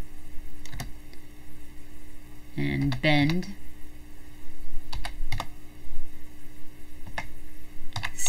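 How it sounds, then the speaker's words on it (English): Computer keyboard typing, scattered close clicks and key taps under a steady electrical hum, with someone speaking briefly partway through. "so I'm typing the percent twice and then the letter D"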